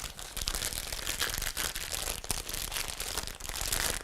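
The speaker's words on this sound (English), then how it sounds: "And these are plastic bags" A plastic piping bag of peanut butter icing crinkles and rustles continuously as it is handled up close, a dense crackling texture with no talk.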